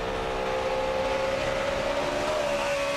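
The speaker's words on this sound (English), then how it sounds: "Now you can hear that engine rev up over those little rises." A NASCAR stock car engine screams at high revs, recorded onboard during a race at Dover, a loud continuous whine that rises and falls slightly as the car rides over small bumps.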